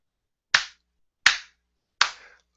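Three slow, widely spaced single hand claps ring out close and sharp, each decaying quickly into silence with nothing else around them, a deliberately sarcastic golf clap.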